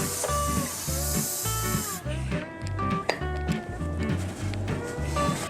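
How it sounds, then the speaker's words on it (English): Aerosol brake cleaner sprays loudly and continuously onto a Ford F-150 brake rotor for about two seconds, then cuts off, leaving clinks and background rumble. "spray a little bit in there, do the same thing"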